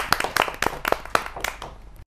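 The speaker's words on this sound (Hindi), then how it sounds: "जोरदार तालियों से स्वागत है डॉक्टर प्रिया सूफी जी।" Sparse, sharp hand claps from a small group welcoming a poet at a kavi sammelan, about a dozen distinct claps over two seconds that stop abruptly, with no talk over them.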